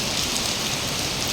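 Heavy rain pours down steadily and loudly on a flooded street, a dense, unbroken hiss with no voices over it.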